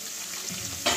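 Duck eggs fry in a pan with cauliflower and peas, giving a steady close sizzle with a brief louder burst of crackle right at the end.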